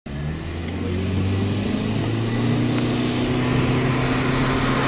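Inside a Google self-driving car running a slalom course, a steady engine drone holds throughout with shifting tonal hum as the car works through the turns, fairly loud and close.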